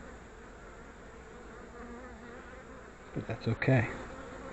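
Dense, steady buzzing of agitated honeybees swarming around an open hive during frame inspection, close and continuous, with a brief spoken remark near the end.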